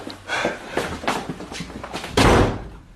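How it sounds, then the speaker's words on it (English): A door slams shut in a BBC audio drama, landing as a loud, sharp thud after a run of softer hurried knocks and movement sounds. "I went out backwards, slammed the door"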